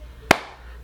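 A single sharp hand clap rings out during a cup rhythm game, one crisp close slap standing alone against a quiet background.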